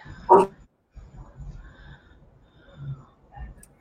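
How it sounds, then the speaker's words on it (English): A dog indoors gives one sharp, close bark, then a run of low snorting, huffing grumbles at irregular intervals. "I gotta mute myself because she's barking."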